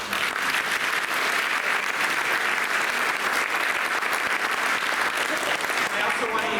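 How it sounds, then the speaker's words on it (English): An audience at a school dedication ceremony applauds steadily, a dense, even wash of clapping that holds at full strength for several seconds with no break. "let's give them one more round of applause"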